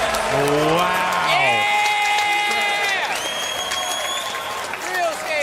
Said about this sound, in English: I'm hearing the excited. crowd below me screaming